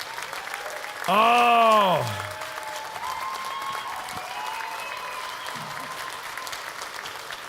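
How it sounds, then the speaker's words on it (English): An audience applauds steadily at a Saturday session event, the clapping spread evenly through the room while a single voice lets out a long drawn exclamation over it near the start. "You owe this lady a huge round of applause."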